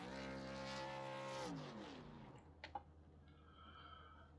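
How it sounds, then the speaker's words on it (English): Race truck in the iRacing sim doing victory burnouts at Charlotte Motor Speedway: a loud, steady engine roar that drops in pitch and fades, followed by a short sharp tire chirp and faint high squeal. "There is your race winner, James Lowe, doing his obligatory victory burnouts."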